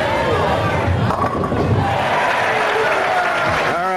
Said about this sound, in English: And the fans cheer for Steve Cook.